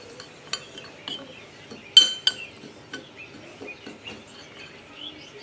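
A spoon stirs a meatless meatball mixture made with pistachio flour and a little lemon zest, giving sparse light clinks and scrapes against the bowl, with a couple of sharper taps, close up and otherwise quiet.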